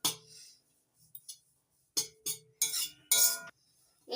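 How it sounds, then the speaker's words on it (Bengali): A spatula scrapes and clinks against a pan while homemade breadcrumbs are stirred and dry-fried, giving several separate bursts of scraping and clatter with short quiet gaps between them. "এইভাবে হালকা আছে নাড়াচাড়া করে ভেজে নিতে হবে।"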